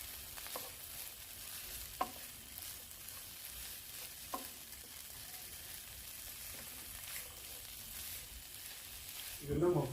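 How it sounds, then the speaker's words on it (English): Chopped vegetables seasoned with white and black pepper stir frying for turmeric coconut rice: a faint, steady sizzle with a few sharp utensil clicks and a louder clatter of stirring near the end. "we'll stir fry this for some few minutes"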